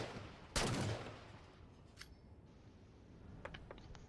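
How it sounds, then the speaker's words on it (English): Gunshot in the video game Agent Zero, fired at witch hats: one loud close shot burst at the start, followed by a few faint clicks and small impacts. "Shooting witch hats."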